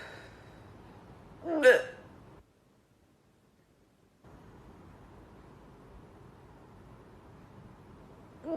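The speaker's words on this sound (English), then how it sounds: "And these are what my hiccups sound like." A single sharp hiccup from a woman stands out close and loud near the start, followed by a quiet stretch, with low room noise and a hint of another hiccup beginning at the very end.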